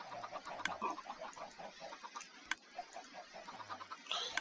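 Chickens at a chicken feeder in Minecraft cluck in scattered bursts, several birds overlapping at moderate volume with sharp clicks between.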